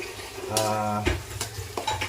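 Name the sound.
stirring onion paste in a cooking pot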